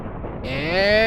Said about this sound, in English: Explosion! That's more like it.